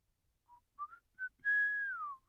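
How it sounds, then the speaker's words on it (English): A person whistles in an audiobook reading: three short, soft notes and then a long, clear sustained tone that slides downward at the end, close and alone. "Peter whistled."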